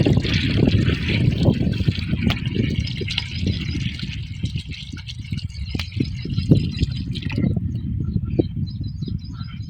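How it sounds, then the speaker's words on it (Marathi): Liquid micronutrient is poured and mixed into about 3 litres of water in a farm field for cotton crop drenching, a continuous close trickling and sloshing with a low rumble beneath. "नंतर घेत आहे मायक्रोन्यूट्रॉन 3 लिटर 200 ml पाण्यामध्ये ते मिक्स करत आहे."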